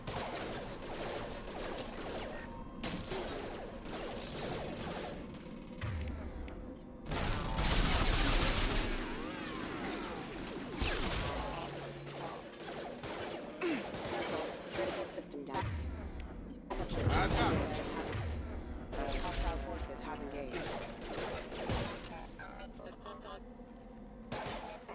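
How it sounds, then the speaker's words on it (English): Sustained gunfire rattles through a Mass Effect 2 firefight, dense bursts of automatic fire and heavier impacts with louder explosive swells, mixed under shouted voices and game sound. "Shoot them before they take out your shields."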